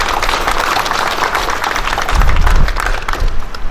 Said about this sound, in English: give them a hand of applause if you would